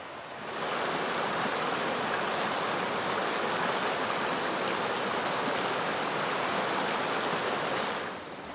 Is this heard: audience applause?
no